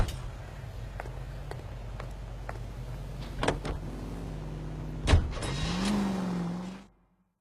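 Car driving in the video game L.A. Noire, a steady engine hum with a few knocks and clunks, then a brief revving swell near the end before cutting out.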